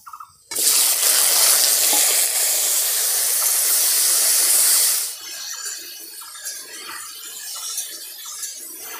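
Washed potatoes drop into hot mustard-oil tempering of dried red chillies, nigella seeds and a bay leaf, erupting in a loud, close, steady sizzle for several seconds before settling into softer crackling.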